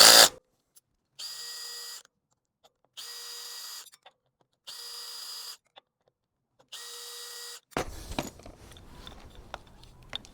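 A small power driver backs out little screws on a bicycle being converted to an e-bike, with four separate whirring bursts of a few seconds each, followed by clattering and rattling of parts.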